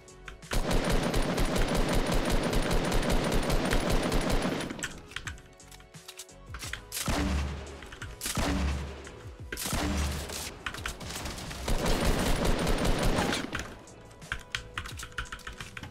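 Burst rifle gunfire rattles in a Fortnite Battle Royale match, with dense rapid firing for several seconds, then broken bursts and shots, loud and close with no talk.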